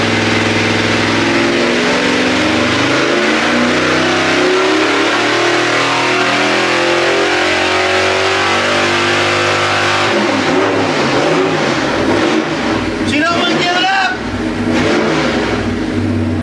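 A built Oldsmobile 455 V8 pulls hard on an engine dyno, a loud, continuous roar climbing steadily in pitch, then backing off into rougher, lower revs near the end.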